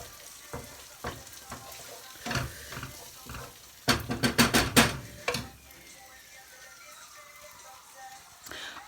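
Onions, garlic and tomatoes cook down in a pan, a low sizzle under bursts of clattering spoon-on-pan stirring and scraping, close by, with a sharper cluster of metallic knocks midway, no talk.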